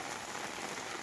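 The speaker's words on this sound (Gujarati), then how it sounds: "જોરદાર વરસાદ પડી રહ્યો છે અમારે હજુદા ગામમાં" Heavy rain falls in Hajuda village as an even, dense hiss of drops, steady and fairly faint, with no voices over it.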